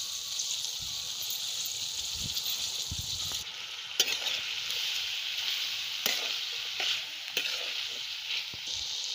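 Dal sizzling and frying in hot oil for a traditional Maharashtrian vegetable tempering, a steady bright hiss with occasional stirring clinks and pops throughout.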